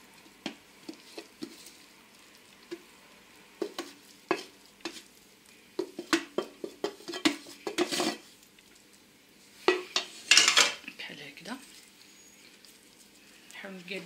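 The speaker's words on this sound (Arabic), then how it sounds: "غادي نبدا نسرح هذاك الرز، كنسرح كنخويه غير في الجنب" Rice cooked with peppers being spread and pushed to the side of a pan with a utensil, giving repeated scraping and tapping strokes in irregular bursts over a faint sizzle, with a voice talking at times.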